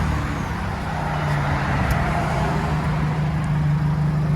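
A 2016 Kia Forte with a muffler delete, cherry bomb and four-inch stainless steel tip idles steadily nearby. A deep, even exhaust drone holds alone throughout with no revving.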